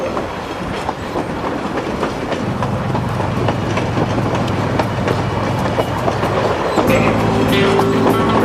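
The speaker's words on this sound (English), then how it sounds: "Hey, look, we just jumped onto a speeding train" Rolling stock of a speeding train rumbles loudly and steadily, with clickety-clack wheel noise on the rails and a sustained low roar close by that rises in intensity partway through.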